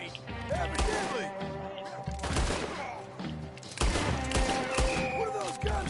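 Gunfire in a Red Dead Redemption 2 shootout, repeated loud sharp shots and volleys in bursts, with people talking over them.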